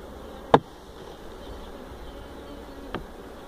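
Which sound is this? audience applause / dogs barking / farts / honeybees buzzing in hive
honeybees buzzing in hive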